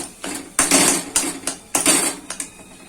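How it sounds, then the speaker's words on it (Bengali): Egg being broken up and scrambled in a pan for homemade chowmein: a quick series of about five metallic scraping clanks from a utensil against the pan, close and fairly loud, with no talking. "আমার ডিমটা হয়ে গেছে দেখুন একদম ঝুড়ো ঝুড়ো করে দেবো ডিমটা ফাটিয়ে"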